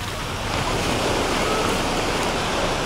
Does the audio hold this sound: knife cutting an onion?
no